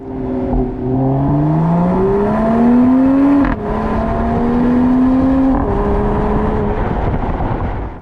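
A Mercedes-Benz inline-six engine revs loudly and alone, its smooth, rising harmonic tone climbing through the gears with a brief break midway before pulling up again.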